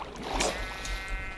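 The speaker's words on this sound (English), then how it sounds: "Alright, come here, sheep." Minecraft sheep bleating, a short harmonic baa rising over steady game background noise, close and moderately loud, heard alone with no talking.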